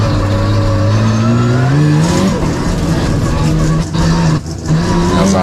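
A Mazda RX-7 sports sedan accelerates hard up a hillclimb course, its engine note climbing loudly before a gear change and further rising revs. Commentary talk sits underneath.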